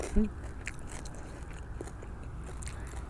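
Someone bites into and chews crispy pork belly with dipping sauce, close wet crunches and chewing in an uneven rhythm, with a faint murmur of voice.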